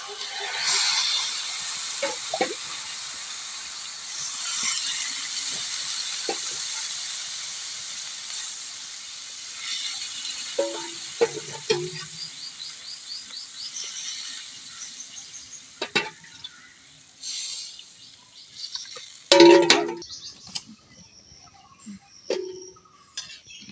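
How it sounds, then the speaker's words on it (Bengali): Water poured into a pan of fried rice for a spicy mutton pulao, a loud hissing rush of steam that fades over several seconds, followed by scattered clinks and knocks of utensils. "এখন পরিমাণ মতো পানি দিয়ে দিব"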